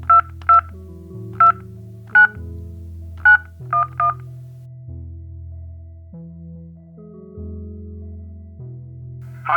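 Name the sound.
telephone number being dialed to the Ghostbusters hotline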